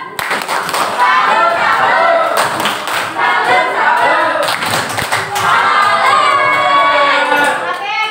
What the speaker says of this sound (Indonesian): Oke, tepuk salut.